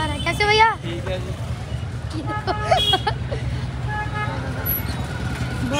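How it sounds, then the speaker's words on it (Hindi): Car horns honk repeatedly in dense Diwali festival traffic on a busy road, short toots and longer blasts from several vehicles over a constant traffic rumble, with people talking throughout. "इतना हॉर्न बज रहा है सब"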